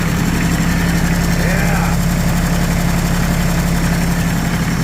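A tractor engine runs steadily just above idle with a loud, constant low rumble and mechanical vibration, and someone speaks briefly over it.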